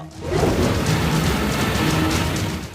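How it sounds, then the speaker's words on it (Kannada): Heavy rain pouring down in Bengaluru, a dense, steady roar of rainfall with low rumbling beneath, loud and continuous throughout with no pauses. "ಬೆಂಗಳೂರಿನಲ್ಲಿ ಮತ್ತೆ ಮಳೆ ಆರ್ಭಟ"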